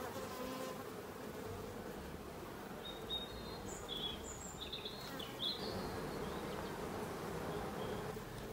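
A faint, steady hum of honey bees buzzing in a hive fills the background, with a few brief high chirps cutting through midway.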